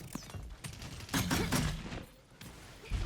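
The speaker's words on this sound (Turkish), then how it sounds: "Biri bana sıkıyor." Gunfire in the video game Paladins, a dense run of sharp shots and bursts mixed with game effects, fairly close and loud, with no talk.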